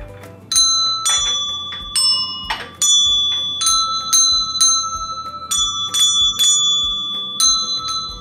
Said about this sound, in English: The bells can also be removed, turning into a great set of 8 handbells.